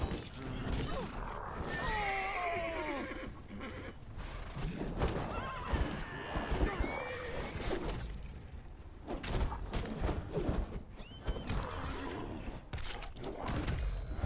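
A horse whinnies in the video game Conan Exiles, its rising and falling neighs heard near the start amid a steady, busy bed of combat thuds, crashes and game noise.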